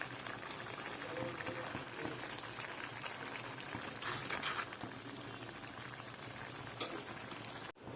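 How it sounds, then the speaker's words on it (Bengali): A pot of curry sauce with yam fritters simmers at a rolling boil, giving a steady, fairly faint bubbling hiss broken by scattered soft pops and small splutters. "দেখো, বেশ কিছুক্ষণ পরে এলাম, ঝোলটা ফুটছে।"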